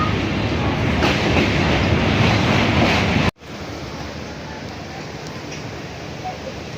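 A passenger train rolls along the rails toward Dhanbad with a loud, steady rumble and rattle. The sound cuts sharply partway through, then continues as a quieter, softer rolling noise.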